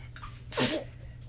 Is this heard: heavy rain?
no